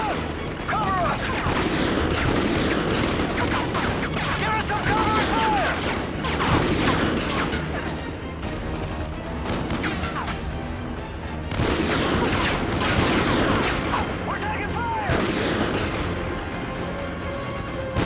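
Intense battle gunfire in the video game Call of Duty Ghosts: dense bursts of rifle and machine-gun shots with heavy booms, continuous and loud, with shouted voices mixed in.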